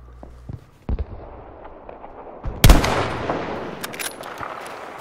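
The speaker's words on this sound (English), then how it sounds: "is somebody shooting at me again?" Gunfire in the shooter game Battlefield V: scattered sharp shots, then a loud close crack around the middle followed by further distant pops and echoes, no talk over it.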